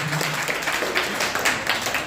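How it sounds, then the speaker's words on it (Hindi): At a pharmacy education day event in an Indian college hall, an audience claps together in a short, dense burst of applause at moderate volume. "सर के लिए मैं चाहूँगा एक बार और जोरदार ताली बजाएं"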